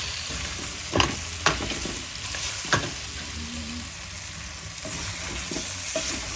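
Chayote tinola being stirred in a frying pot, with a soft continuous sizzle and a few sharp scraping stirs near the start, close and fairly quiet.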